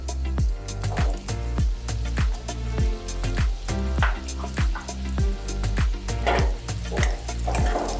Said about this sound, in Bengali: কেটে রাখা গাজরগুলো দিয়ে দিচ্ছি।